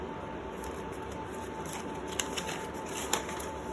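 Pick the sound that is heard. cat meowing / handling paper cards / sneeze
handling paper cards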